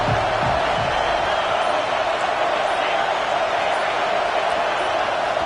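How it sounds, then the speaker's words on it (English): A stadium crowd at a football game roars in one continuous, loud, dense wash of cheering that holds steady throughout, with no distinct voices standing out. "This crowd ready to make its presence known."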